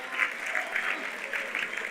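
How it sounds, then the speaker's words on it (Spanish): An audience at the Impactup 2026 event applauds a speaker and team, a brief spell of fairly faint, distant clapping from a crowd. "Un aplauso para Joaquín Unos y crack."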